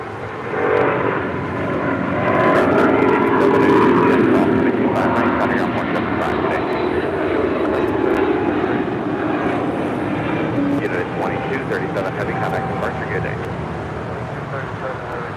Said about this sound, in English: That is the ANA on the Pond Airways 787-9 Dreamliner.